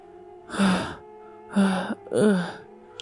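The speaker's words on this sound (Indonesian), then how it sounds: "Arya pun hanya ngos-ngosan saat itu" A person breathes heavily after waking from a nightmare, three loud gasping breaths spaced about a second apart, close and strained, with quiet pauses between them.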